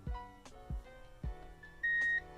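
A multimeter checks continuity on a fuse, and a short tone is followed by a longer steady beep near the end, with faint thumps and handling knocks before it.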